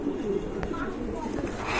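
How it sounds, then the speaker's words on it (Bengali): A pigeon coos in a low, muffled, rolling tone, close by, against steady background noise and possible faint voices, over a brief stretch. "মাশাআল্লাহ সুন্দর একটা কবুতর।"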